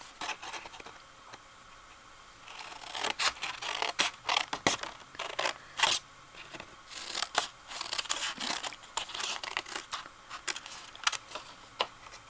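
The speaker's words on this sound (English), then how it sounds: "So let me cut the rest of these." Scissors snip through card paper while making a shadowbox Mother's Day card, with repeated close crisp cuts in irregular bursts and brief pauses between them.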